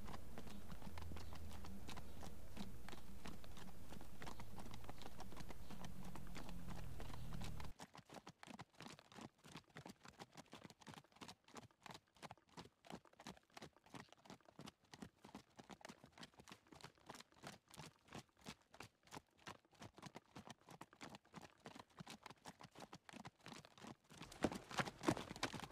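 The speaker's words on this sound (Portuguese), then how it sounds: "nenhuma musiquinha, só o barulho dos cascos do cavalo" Horse hooves clip-clop at a steady walking rhythm in Minecraft: Story Mode, dry and clear with no music, after a stretch of other game sound at the start, then continuing evenly until a few louder hits at the end.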